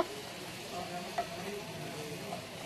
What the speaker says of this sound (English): as that's getting sautéed up